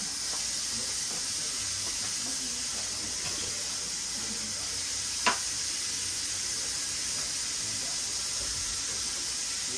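Hot dogs sizzle on a grill with a steady, even hiss throughout and one brief sharp click partway through.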